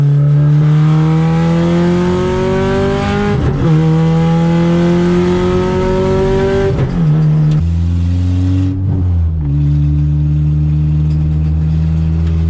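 A K-swapped car engine revs hard through rising pulls, climbing steadily, dropping with a shift, then climbing again. The sound is loud, close and continuous, with no talking.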